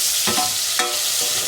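Wet-cured meat for hunter's chicken sizzles steadily in a frying pan, with a few scraping stirs breaking through the constant crackle.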